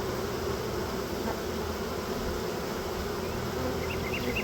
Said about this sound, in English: Frame bees ain't moving.